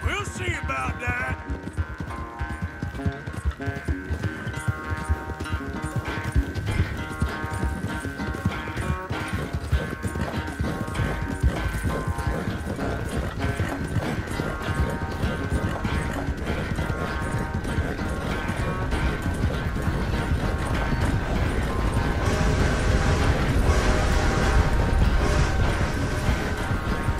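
Horse hooves clip-clopping at a steady riding pace in Red Dead Redemption 2, a continuous rhythmic patter under game music and ambience, with faint mechanical clicks and a possible whinny.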